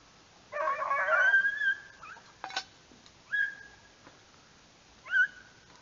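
Hunting dogs baying while chasing a rabbit: a few distant, faint howling bays and yips, one longer bout followed by short separate cries, heard alone in an open quiet setting.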